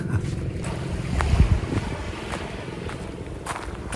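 Seawater washes onto a beach in a soft, faint rush, with gentle swells rising and falling and light wind noise across the microphone, no voices.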